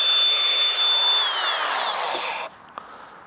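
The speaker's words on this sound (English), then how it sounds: "The grinder I used on the thin brick video that I did. Works like a champ. Masonry blade on that" An angle grinder fitted with a masonry blade cuts through a paver, a loud high whine with gritty cutting noise that holds for about two seconds and then stops abruptly, leaving a brief clack.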